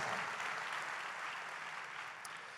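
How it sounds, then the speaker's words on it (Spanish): A church congregation applauds during a sermon, a dense, steady wash of clapping that holds evenly at moderate level throughout with no voices over it. "dale un aplauso al Señor porque Él ha hecho la promesa"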